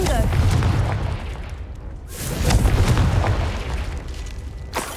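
Confringo spell explosions in the video game Hogwarts Legacy: rumbling, roaring blasts that swell, dip and swell again, with a voice calling out amid the noise.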